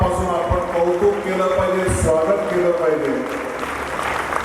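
Audience at a Marathi literary conference breaks into applause, a broad continuous clapping that carries on under someone speaking.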